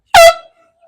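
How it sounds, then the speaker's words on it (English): One short, loud air horn blast, pulled as a prank in a park, sounds sharply and cuts off quickly, leaving a faint ringing tail. "then boom, air horn"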